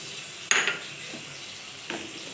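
Spice paste for a fish curry is stirred in a hot pan, with a sharp metal scrape and sizzle, then a second softer scrape a moment later over a low steady frying hiss.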